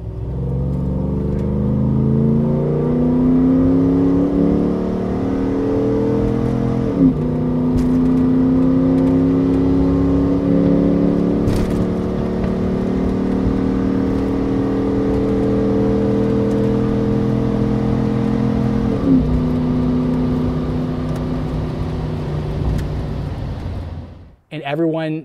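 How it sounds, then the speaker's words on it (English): A first-generation Toyota Tundra with JBA headers and a Flowmaster 40 exhaust revs loudly up close, its engine note rising and falling in several long sweeps before cutting off abruptly near the end. "this truck sounds so peculiar"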